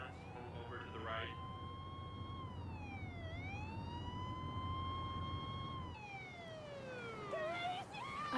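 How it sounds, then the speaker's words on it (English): A wailing emergency siren rises and falls slowly in long sweeps, fairly distant over low traffic rumble. "The ambulance had shut its doors and started to pull away real slow."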